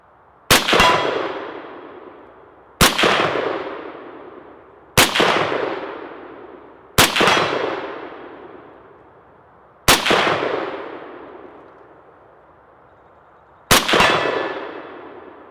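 Six loud 1958 Chinese SKS rifle shots ring out at irregular intervals outdoors, each sharp crack followed by a metallic clang of a steel target and a long decaying ring, with no talk.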